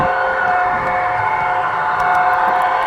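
A model railroad Vectron locomotive hauls a container train with a loud, steady mechanical hum and whine, continuous and unbroken from the cab, with no voices.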